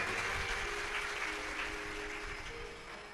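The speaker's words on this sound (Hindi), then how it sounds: "एक बार इनके लिए जोरदार ताली हो जाए।" A large audience at a Shiv Mahapuran religious gathering claps in dense, sustained applause that fills the space evenly and fades slightly toward the end.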